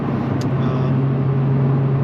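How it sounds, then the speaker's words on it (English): An Audi R8 5.2 V10 R-tronic with a single-stage exhaust that is always loud drones steadily while driving, a constant low engine hum with no gear changes or revving. "The car's not obnoxiously loud with the exhaust."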